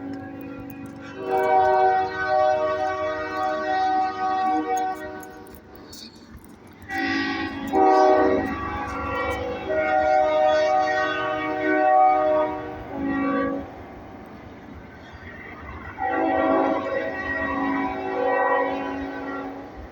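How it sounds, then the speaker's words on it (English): A train in a rail yard sounds its horn in several long, loud blasts with short gaps between them, over a low rumble of rolling rail cars. "There's the train."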